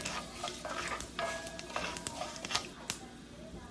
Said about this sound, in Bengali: বিউলির ডালটাকে কিন্তু একদম লাল লাল করে ভেজে নিতে হবে